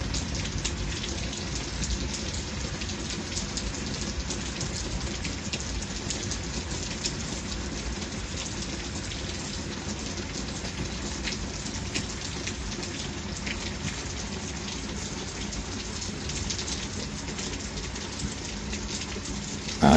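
Steady heavy rain pours onto a front porch during a thunderstorm, a dense unbroken hiss lasting throughout with no voices.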